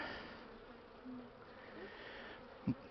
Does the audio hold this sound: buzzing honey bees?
yes